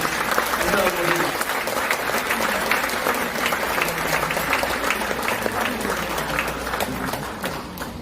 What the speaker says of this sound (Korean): 이 두 분께 축하의 박수 크게 한번 주시겠습니다